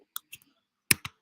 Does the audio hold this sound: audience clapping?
no